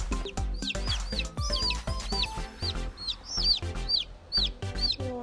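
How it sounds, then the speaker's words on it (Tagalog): Newborn chicks give rapid, high, repeated peeps, close by and fairly loud, mixed with soft clucking and light handling noises, with no speech. "Kawawa itong isang sisiw, kailangan niya ng tulong ko."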